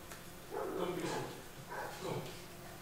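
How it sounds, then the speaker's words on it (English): Dogs guarding a farm bark a few times at a distance, two or three muffled, rough barks rising over a steady background hum, with no speech. "You will hear the dogs bark."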